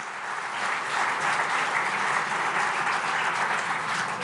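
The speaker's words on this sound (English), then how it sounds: "Let's give a round of applause to the Honorable Prime Minister again." An audience at the Indo-German Summit applauds the Prime Minister, a dense, even roar of clapping from a large hall that holds steady throughout.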